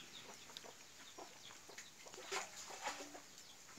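Chickens clucking on a cashew plantation in Cambodia, a scatter of short, soft clucks and calls at a distance over quiet background noise, with no voices.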